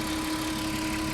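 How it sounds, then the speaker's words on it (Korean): A Porsche Cayenne 3.2 V6 gasoline engine idling steadily, heard up close with the hood open, a smooth constant hum with no talk over it. "지금 휘발유 엔진 소리"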